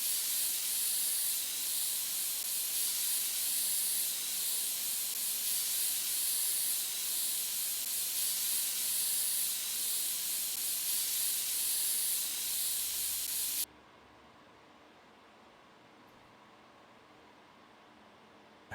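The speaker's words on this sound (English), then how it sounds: "I'm trying to spray some more air into it in case I missed a component or something" Compressed air sprayed into a computer, a loud continuous hiss lasting about fourteen seconds before cutting off abruptly into near silence.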